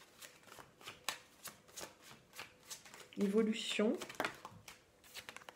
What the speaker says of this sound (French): On va faire voler deux cartes